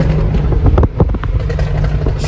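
Volkswagen Scirocco revving close by, a loud rough engine roar broken by a burst of sharp exhaust pops and bangs near the middle.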